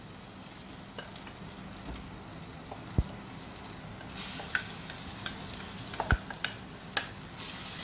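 Cooked dal being tipped into a sizzling tomato mixture in a pan for Mysore dal gravy, with steady frying hiss, scattered stirring clinks and a couple of sharp utensil taps, no talk.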